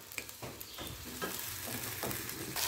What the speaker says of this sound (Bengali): এবার কিন্তু আঁচটা কমিয়ে দিয়ে, প্রথমে একটুখানি বাড়িয়ে দিয়ে তারপর কমিয়ে দিয়ে সুন্দর করে এটাকে আরও কষাতে হবে।